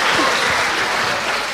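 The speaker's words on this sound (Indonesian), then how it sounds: "Kasih tepuk tangan dulu buat Kak Supri." Loud, sustained audience applause, thick and continuous from start to finish, with no talking over it.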